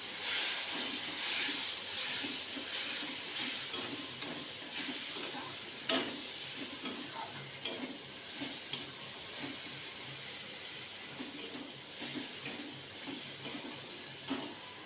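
Spices frying in a pan of oil as the base for Bengali masoor lentil dal, a steady soft sizzle and hiss with light recurring scrapes of stirring, close and even with no voices.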